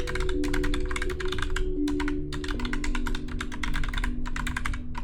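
Rapid typing on a computer keyboard while playing Tranquil Builds, with close, crisp key clicks in quick bursts and short pauses, over a steady musical background drone.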